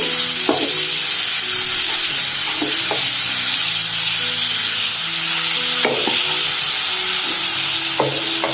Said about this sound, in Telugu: పసుపు, అల్లం వెల్లుల్లి దంచి పెట్టుకున్నాం కదా, గరం మసాలా, దీన్ని బాగా కలుపుకోవాలి.